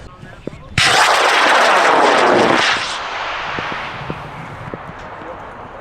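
A high power rocket lifts off at a large amateur launch event in Potter, New York: a sudden loud, roaring blast bursts in and holds steady for about two seconds, then fades into a distant rumble with scattered clicks.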